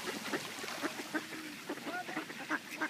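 Several ducks being fed bread quack repeatedly nearby in an irregular chorus, moderately quiet, with faint background noise.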